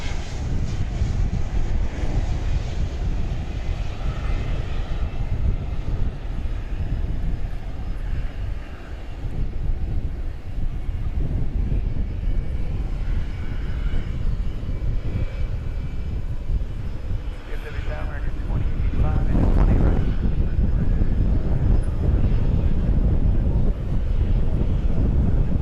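A plane landing at DFW Airport at night gives a steady, broad engine roar that swells louder toward the end, with wind buffeting the microphone and a voice talking over it.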